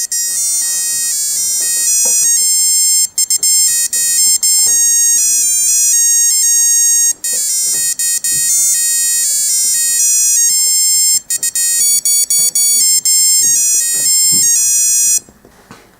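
A 1984 Saxon 7 Melody Chrono digital watch chiming Yellow Rose of Texas, a bright, thin electronic beeping tune played note by note, close and loud, with a couple of brief pauses before it cuts off.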